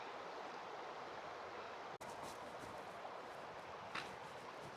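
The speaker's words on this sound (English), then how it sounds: "It's the trickling sound of the water that does it for me." Steady rushing water fills the scene, a continuous broadband wash like a flowing stream, close and even, with no one speaking, along a river walk in the Peak District's Monsal Dale.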